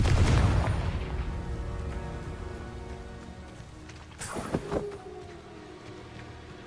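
A Confringo fire spell explodes in Hogwarts Legacy, opening with a deep booming blast that rumbles and fades over several seconds, followed by a second, sharper burst with a crackling tail near the end.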